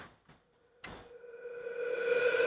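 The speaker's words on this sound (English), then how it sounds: "riser effect" A rising riser effect in a modern dark pop metal production swells in after a few soft ticks and a sharp hit, its tuned tones building steadily louder over two seconds.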